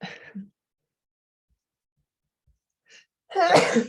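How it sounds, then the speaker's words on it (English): A single sharp sneeze bursts out near the end, after a short breathy intake and near silence, with a brief sound at the start. "I'm gonna sneeze."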